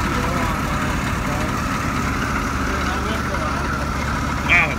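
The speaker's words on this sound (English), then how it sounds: "Man, it sounds like a big V8." A classic Ford C E-One fire truck's diesel engine idles with a steady, deep, even rumble that holds unchanged for the whole stretch, with voices faintly present over it.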